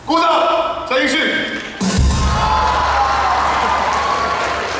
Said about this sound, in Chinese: 鼓掌